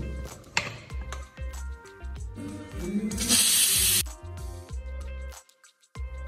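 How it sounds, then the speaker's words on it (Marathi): A pressure cooker cooking dal lets out one loud hissing whistle lasting about a second, amid quieter kitchen clicks and clatter. "कुकर लावून घेऊ व 4 शिट्ट्या येईपर्यंत आपण डाळ शिजवून घेऊ"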